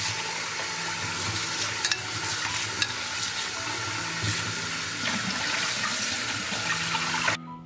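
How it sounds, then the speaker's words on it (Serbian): Soaked potatoes rinsed under a stream of cold running tap water, a steady hissing splash with small clatters and knocks of the potatoes, ending abruptly. "nosim ga sada da ga isperem pod mlazom hladne vode"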